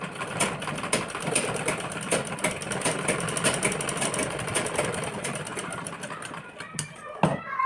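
A sewing machine stitches blouse pieces together, a steady mechanical whir running continuously, fairly close, with rapid needle ticks and a brief louder clatter near the end.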